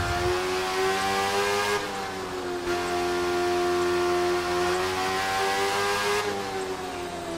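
A Kawasaki Z1000 motorcycle engine in the racing game The Crew 2 drones loudly and continuously, its pitch holding high and shifting slightly as the bike rides on, with no talk.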